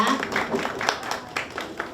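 An audience at a Busan panel discussion on pet-industry workers applauds to welcome a panelist, a dense, steady patter of many hands clapping that fills the room for the full stretch.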